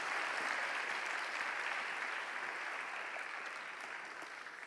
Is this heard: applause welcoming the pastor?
yes